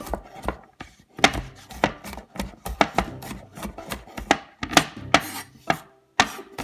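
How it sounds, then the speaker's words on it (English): Raw garlic cloves are minced with a knife in a run of crisp, close blade taps on a cutting board, fast and slightly uneven in rhythm. "you want to mince it as finely as you can"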